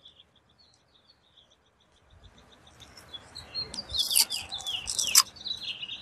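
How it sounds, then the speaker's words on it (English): Birds chirp and tweet outdoors, starting faint and distant, then sharper close calls join over a rising rustling background, with light broadband noise throughout. "Hello, birdies."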